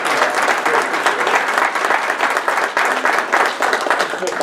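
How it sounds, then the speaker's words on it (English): Audience at a monthly meeting candidate forum applauds all the candidates with dense, continuous clapping, loud and close throughout, with faint voices mixed into the crowd. "another round of applause for all the candidates"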